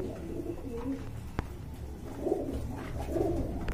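Pigeons, including black Lakkha pigeons at a pigeon market, cooing in soft repeated low calls at moderate distance, with a single sharp click partway through and no talk.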